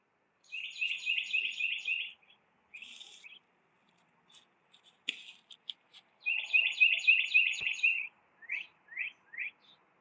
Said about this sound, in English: you can hear a lot of birds